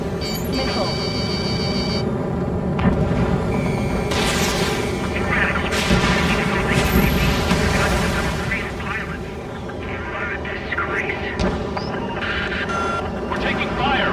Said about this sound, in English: We're taking fire! We can't hold off!